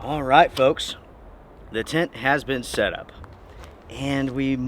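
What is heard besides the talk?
No everyday noise stands out behind the speech.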